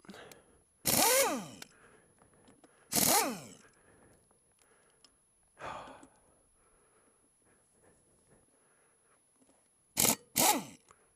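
Undoing a motorcycle's front sprocket nut with a 27mm socket: a few short, loud scraping, straining bursts separated by long near-silent gaps, with a close pair of bursts near the end.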